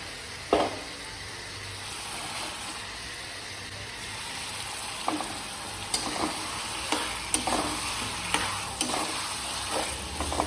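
Mutton fries in a pan with cooked ginger garlic paste and masala, a soft continuous sizzle close by, broken by repeated scraping and stirring clatters of a spoon against the pan.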